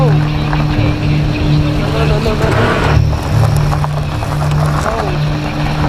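A steady droning car engine in a film scene as the car rolls backward, loud and continuous with rising and falling motor noise.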